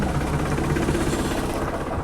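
A tractor engine, apparently a New Holland, idles to warm up on a rainy day, giving a steady, close, low rumble throughout with no talking.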